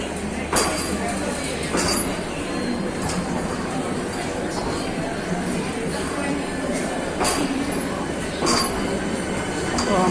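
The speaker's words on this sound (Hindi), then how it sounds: "ये है वंदे भारत एक्सप्रेस जो कि जा रही है काशी विश्वनाथ।" The Vande Bharat Express passes a station platform with continuous loud rumbling, rhythmic clanks of wheels over rail joints and occasional squeals, close by and steady throughout.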